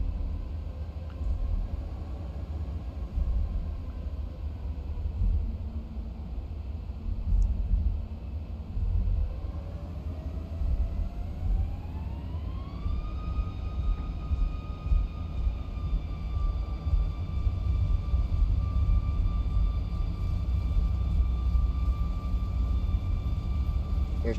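A simulated Boeing 737 MAX 8 taking off in X-Plane 11, with a deep continuous engine roar and a whine that climbs steeply in pitch as thrust comes up, then holds high and steady.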